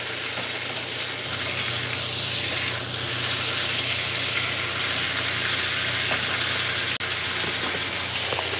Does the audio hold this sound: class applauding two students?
no